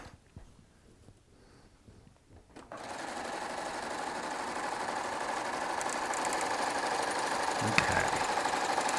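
Baby Lock Triumph serger with a ruffling foot stitching fabric, starting after a quiet stretch with faint handling noises, then running as a steady, fast, buzzing whir that stays even and close until the end.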